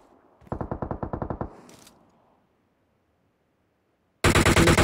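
Rapid gunfire in BGMI, a loud burst of around a dozen evenly spaced shots, then a brief metallic clink and near silence before another loud burst starts abruptly at the end.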